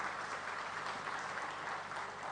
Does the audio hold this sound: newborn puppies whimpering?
no